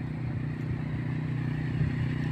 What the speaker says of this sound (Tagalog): Jet ski.